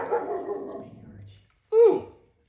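A pet dog gives a single short, loud bark right after a stretch of someone talking.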